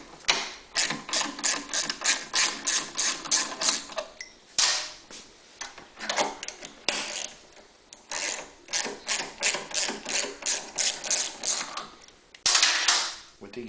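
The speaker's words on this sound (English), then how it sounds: "simply unscrew these bottom studs" Unscrewing the bottom studs on the cover of a Honda EU3000iS generator, heard as repeated ratchet clicks in fast bursts, each burst lasting a second or two between brief pauses, close and fairly loud.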